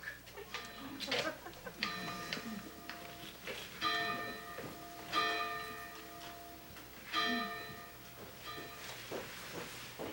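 A church bell rings as a sound effect in a stage play about Lexington Green, with several resonant strikes several seconds apart, each decaying slowly over a soft room hiss.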